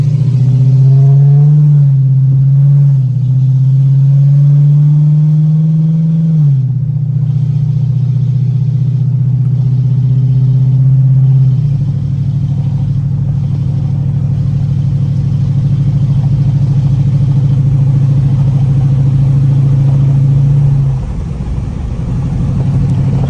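A 2013 Chrysler 300C with a loud exhaust drives steadily, its deep engine drone rising and holding near, with a shift in pitch partway through and continuous rumble to the end.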